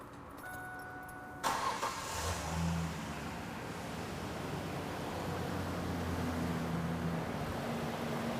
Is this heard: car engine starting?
yes